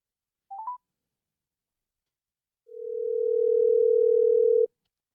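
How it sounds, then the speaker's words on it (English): A phone line during a live call setup: a quick burst of dialing tones, a pause of silence, then a single steady ringback tone held for about two seconds before cutting off. "let's go ahead and call them and get them on the phone"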